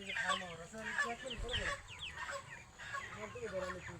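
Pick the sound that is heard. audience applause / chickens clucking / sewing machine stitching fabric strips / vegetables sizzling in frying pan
chickens clucking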